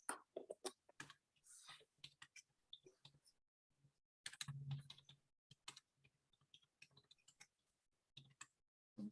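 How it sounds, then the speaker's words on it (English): Bursts of typing on a computer keyboard, quick clusters of clicky keystrokes separated by short pauses, close and fairly quiet in an otherwise silent room. "I'm so not used to typing."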